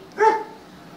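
A dog gives a single short, fairly sharp bark on command to speak, heard once near the start and then fading to quiet room tone.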